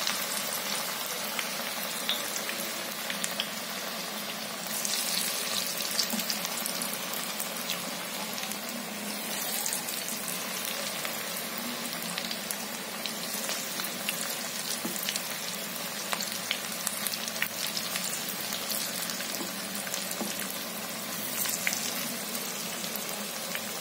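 Bhaji (pakoda fritters) frying in hot oil, a steady close bubbling sizzle with soft crackles that holds for the whole stretch, with no talking.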